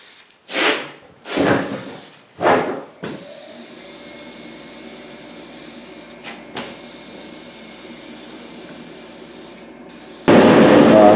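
An aerosol can sprays automotive paint and clearcoat in three short hissing bursts, then one long steady spray that fades to a faint hiss, followed by a loud close rustle at the end.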